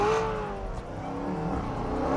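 A Corvette Z06 or Challenger Hellcat launches and accelerates hard, its engine note a loud rising drone that holds for about two seconds. It is close and strong, with no speech over it.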